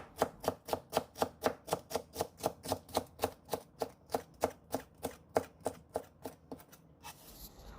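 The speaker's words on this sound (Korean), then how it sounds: "적 양배추를 얇게 채 썰어 놓습니다" A knife thinly slices red cabbage on a cutting board in a steady, even rhythm of crisp chops, about three per second. The cuts are close and clear and fade slightly toward the end, with no talking.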